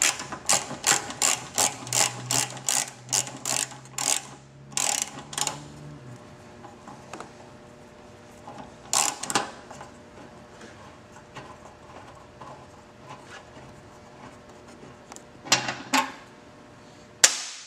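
Ratchet backing out the bolt that holds the gas tank on a steel-frame Victory motorcycle, a quick run of close, crisp clicking strokes with a few sharper metallic snaps and clanks later on, no talking.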